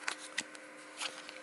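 A tarot card deck with gold-foil edges being shuffled by hand, giving a few quick papery riffles and soft card slaps, close but fairly quiet.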